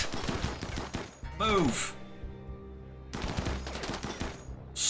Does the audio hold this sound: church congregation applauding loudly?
no